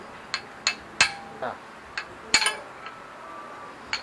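Light metal taps from gently hammering the T-post of a Yamaha NMAX scooter during a ball race replacement, about ten sharp clinks spaced unevenly, some ringing briefly, close and moderately loud with no talking.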